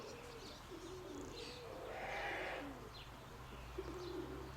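Soft cooing from a cream-colored pigeon descending, low repeated coos with faint chirps, quiet and somewhat distant over steady background hum.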